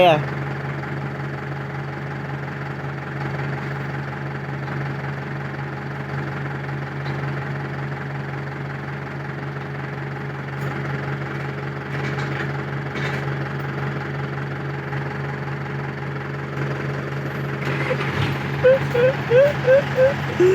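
A steady mid-pitched tractor engine idles nearby for the whole stretch, its drone rising and chugging a little louder near the end.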